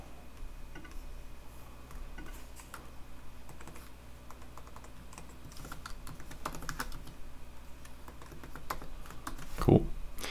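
Typing on a computer keyboard while writing Ruby on Rails code, a steady patter of soft key clicks running throughout at close range, with one sharper louder keystroke near the end and no talking.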